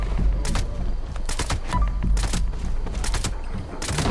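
Repeated gunfire in Fallout 76 as a player shoots an enemy, aiming for the head: several loud separate bursts of shots spaced across the moment over steady low game ambience, with no talking.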